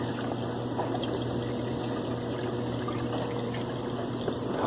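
Water draining from a hot water heater, a steady rushing flow with a low hum underneath, continuous and fairly close throughout with no pauses.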